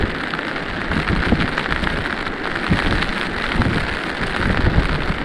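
Heavy storm rain pours steadily with water streaming down from above, a loud, dense, unbroken hiss and splatter that continues evenly throughout.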